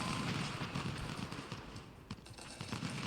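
Musket and rifle fire rattles in a Civil War battle in Ultimate General: Civil War, dense crackling volleys and scattered reports blending into a continuous distant roar.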